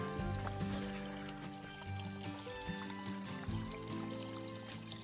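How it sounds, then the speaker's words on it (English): Filtered water pours and trickles steadily from a source beside a hiking trail on the Pemi Loop, a faint, continuous splashing heard close with no talk. "So check out this source of filtered water."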